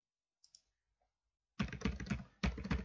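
Typing on a computer keyboard in a word processor: after a near-silent start with a couple of faint taps, two dense runs of close key clicks follow, without speech.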